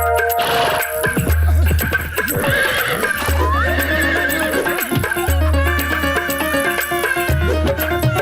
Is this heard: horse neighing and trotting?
yes